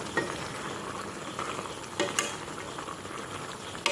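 Masala is stirred into duck curry frying in a pan, with a steady sizzle and scraping stir strokes that continue throughout at moderate, close level, with no talk.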